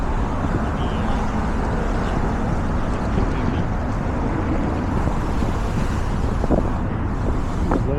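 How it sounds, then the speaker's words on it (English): Steady wind roars across the microphone over the churning Hudson River near Hudson Yards, Manhattan, a constant rough rush with faint splashing and distant engine hum. "bit of a windy, rough river"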